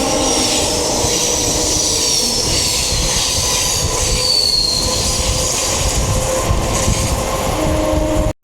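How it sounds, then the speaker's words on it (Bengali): A train on the Howrah–Tarakeswar line pulls into Sheoraphuli station with a loud, continuous rumble of wheels on the rails and a high metallic squeal running over it. "শেওড়াফুলিতে ট্রেন আসছে"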